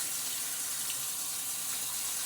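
Tap water runs steadily into a bathroom sink as a soft, continuous hiss, alone and with no talk.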